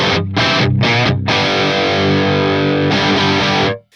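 A heavily distorted electric guitar through a Fractal Audio AX8 modeler using a 5153 amp model plays chopped chords, then a sustained ringing chord that cuts off abruptly, loud and upfront.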